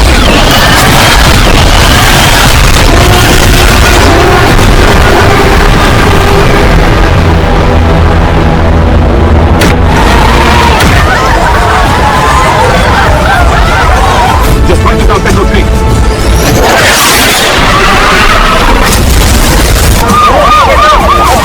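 A missile launch and explosions as movie sound effects: a continuous, very loud wall of booms, blasts and roaring rumble with sharp cracks layered throughout.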